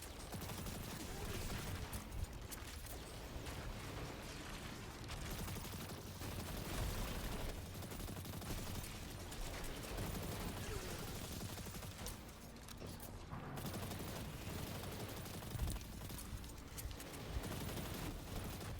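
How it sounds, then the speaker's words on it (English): Rapid volt shot gunfire from a hunter's weapon in Destiny 2 Lightfall, dense bursts of shots and impacts clearing enemies, continuous and busy, with a voice talking over the action. "we're just using this volt shot to clear out a bunch of ads"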